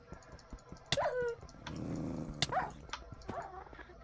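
Dog growling in a modded Minecraft game, a few short snarls and growly bursts over a busy game soundscape with other brief in-game effects, fairly close and moderately loud.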